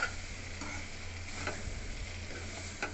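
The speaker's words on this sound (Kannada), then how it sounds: "ಫ್ರೈ ಮಾಡ್ತಾ ಫ್ರೈ ಮಾಡ್ತಾ ಇದ್ದೀವಿ ಫ್ರೆಂಡ್ಸ್" Bitter gourd curry ingredients frying in a pan make a soft, continuous sizzle with a few faint stirring scrapes, and no talking.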